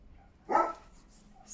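A dog gives a single short bark somewhere in the background, fairly soft and set against quiet room noise.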